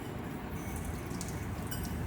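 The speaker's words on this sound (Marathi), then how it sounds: "तडतडली" Mustard seeds spluttering in hot oil in a kadhai for Mangalore-style ridge gourd: a dense, steady crackle like light rain, with a few faint sharper pops on top, continuous and close.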